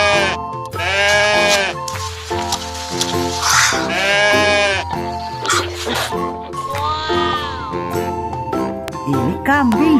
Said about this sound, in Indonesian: Ini domba, teman-teman.